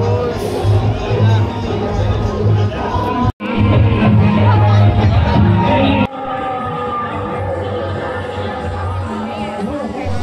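A dense, loud crowd at a Durga jhanki procession in Bhaisbod on Panchami, a steady roar of chatter, shouts and cheers with festive noise throughout and a brief cut partway.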